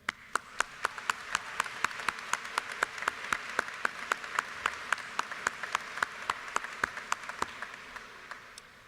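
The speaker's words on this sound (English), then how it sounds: "Let's give a round of applause to these graduates one more time." Graduating students at a Germantown School District graduation ceremony receive sustained applause from the audience, a dense wash of clapping with sharp individual claps standing out throughout, steady and fairly loud without any talking.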